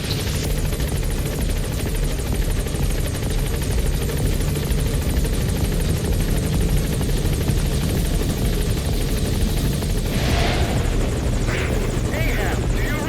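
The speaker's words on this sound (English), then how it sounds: "Support helicopter has arrived." A helicopter's steady rotor thrum and engine drone in Metal Gear Solid V fills the whole stretch, loud and continuous, with faint voices over radio-like chatter underneath.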